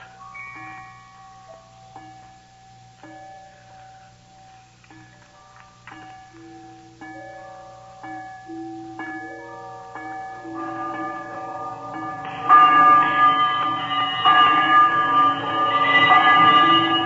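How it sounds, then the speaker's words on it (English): An old, disused bell begins to swing and ring in a 1938 radio drama of A Christmas Carol, its tolling building from slow, spaced strokes to a loud, dense clang of overlapping rings over a low hum. "It was with great astonishment and with a strange, inexplicable dread that as he looked, he saw this bell begin to swing."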